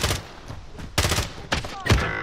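Several loud cracking gunshots in a shooter game, four distinct bursts about half a second apart, each with a short rumbling tail.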